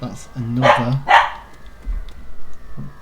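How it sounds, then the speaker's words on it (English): A dog barks a few times nearby, in short sharp bursts clustered near the start, with a person speaking briefly and a faint later bark. "Sorry about the dog."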